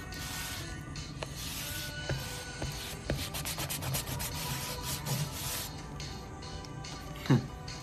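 Steady rubbing of an eraser scrubbing pencil lines off paper while finishing a self-portrait sketch, a continuous close, soft scratchy friction in short back-and-forth strokes with a brief louder scuff near the end.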